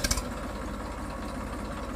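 A tractor engine idles with a low, even, throbbing rumble at moderate distance, steady throughout after a couple of brief knocks at the start.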